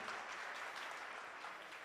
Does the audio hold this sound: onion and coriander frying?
no